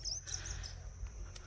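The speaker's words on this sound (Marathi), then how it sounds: "परिसरातील सर्व पक्षी जे आहेत ते उन्हाच्या वेळेस बागेमध्ये आलेले असतात" Birds chirp faintly and intermittently in a mango orchard in the midday heat, thin high calls heard at a distance over a steady low rumble.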